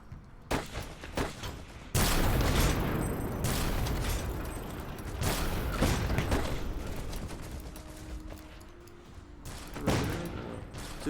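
Grenade blasts and gunfire in the Iron Harvest strategy game, a dense run of booms and rattling shots starting at about two seconds and carrying on loudly, with a further burst near the end.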